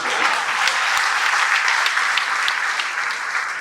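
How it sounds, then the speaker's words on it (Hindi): An audience at a Mumbai centenary event claps in a dense, steady burst of applause that holds evenly for the whole stretch, loud and close with no voices over it. "आप तालियां वगैरह पीटते"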